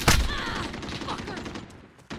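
Gunfire crackles in a Warzone match, opening with a sharp close burst followed by scattered quieter shots and game sounds, with a voice briefly audible.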